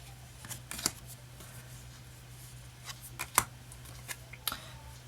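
Glossy Rider Waite tarot cards being shuffled by hand, a series of soft papery riffles and sharp slaps scattered irregularly over low background hum, close and fairly quiet.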